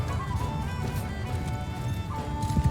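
Horse hooves in the battle game Mount & Blade II Bannerlord, a rapid continuous clip-clop of galloping close by under a busy, noisy backdrop, with a brief whinny-like tone midway.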